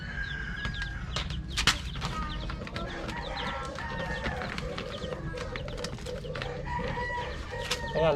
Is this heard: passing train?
no